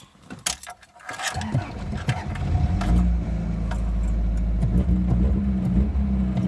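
A Toyota AE86 engine, fresh from an oil change and fuel system cleaning, cranks after some keys jangling and catches into a steady, smooth idle with a low rumble and a faint whine.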